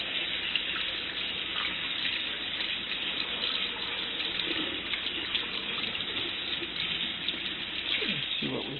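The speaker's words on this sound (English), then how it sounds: "So let's rinse it off." Tap water runs steadily over an etched PCB being rinsed in a sink, a continuous close splashing gush with no break.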